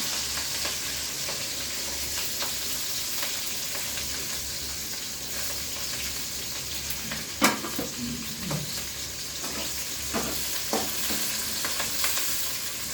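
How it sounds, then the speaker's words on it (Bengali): Chopped chilies and onions frying in hot oil in a pan, a steady close sizzle with occasional stirring scrapes and spoon knocks throughout. "এই যে মরিচ কেটে রাখছিলাম, পেঁয়াজ কেটে রাখছিলাম, এগুলো দিয়ে দিলাম।"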